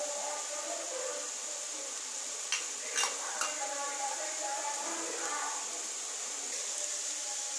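A spice paste of red chili powder and cumin powder being stirred in a pan, scraping and clinking of a utensil against the pan over a continuous light sizzle, with brief talk.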